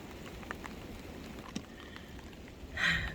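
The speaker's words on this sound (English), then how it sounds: "Ooh, and the rain just kicked in." Rain falls on the Little Greenbrier Trail in the Smoky Mountains forest: a steady, moderate patter and hiss with a few sharper drops and a brief louder swell near the end.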